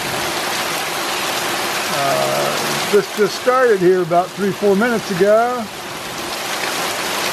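Steady rain falls on a late-May morning, a continuous broadband hiss that persists throughout, with someone talking over it in the middle.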